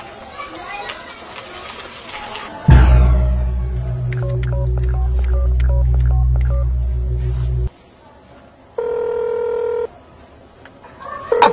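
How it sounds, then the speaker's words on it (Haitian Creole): Telephone keypad tones sound in a quick series of short beeps over a steady low hum, followed after a pause by a sustained ringing tone, with children's voices and chatter around. "téléphone a sonné"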